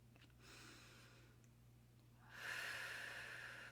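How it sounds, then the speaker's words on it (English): Slow, deep breathing during a guided meditation, faint and close: a soft airy breath swells, eases off, then a stronger, longer rush of air follows. "Breathing deeply is the key."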